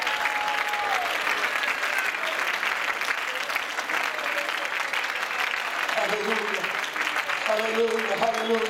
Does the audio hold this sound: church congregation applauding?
yes